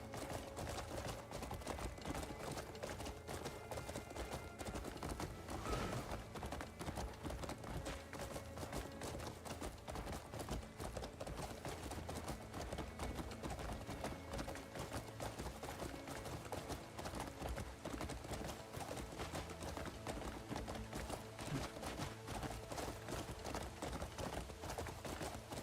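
A horse in Crimson Desert gallops on and on in a steady, rapid clip-clop of hooves, faint and even throughout with no talk.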